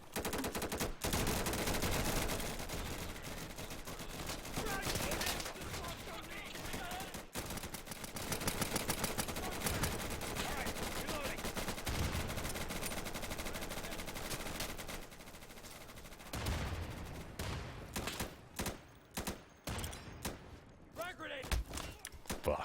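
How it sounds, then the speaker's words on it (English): Dense, sustained gunfire from a multiplayer shooter video game with friendly fire on rattles in long bursts, then breaks into scattered, choppier shots toward the end, with speech mixed in. "Just shot a guy right in front of me who was on the team that didn't do anything"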